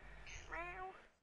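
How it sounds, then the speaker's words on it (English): An 18-year-old female house cat lets out one drawn-out, wavering meow, close and fairly clear over a low background hum. "That's my cat. She wants bed."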